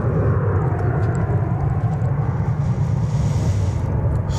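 A broad, steady roar and rumble from an airliner at DFW Airport holds constant for several seconds, loud and even, with no voices.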